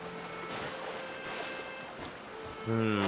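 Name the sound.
waterfall in the video game Genshin Impact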